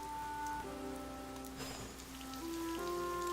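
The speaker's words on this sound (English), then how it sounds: "No, it's raining." Rain falling in the video game Harvestella, a soft, steady patter of drops under sustained game music tones, fairly quiet and continuous for the whole moment.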